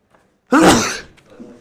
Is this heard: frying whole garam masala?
no